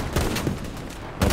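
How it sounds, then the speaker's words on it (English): Repeated sharp shots from an anti-tank rifle crack and thud in a WW2 video game battle, a few loud close bursts separated by brief gaps with a dull rumbling tail. "Yeah, it's getting shot with that anti-tank rifle."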